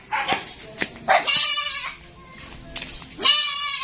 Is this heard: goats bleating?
yes